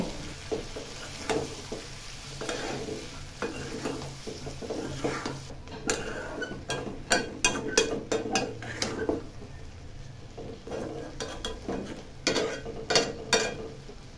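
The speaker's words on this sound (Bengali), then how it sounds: "নাড়া দিয়ে কিছুক্ষণ চুলায় মিডিয়াম দমে রাখবো।" A spoon stirs shrimp curry in a pan on a stove, scraping and clinking in irregular bursts over a low sizzle, close and moderately loud, with a few quicker clattering stirs toward the end.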